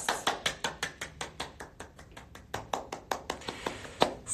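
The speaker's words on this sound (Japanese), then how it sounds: "寂しい拍手。" Sparse, lonely clapping from two staff members during a small Instagram live session: a steady run of about twenty separate close hand claps, evenly spaced and fairly quiet, with no crowd or voices.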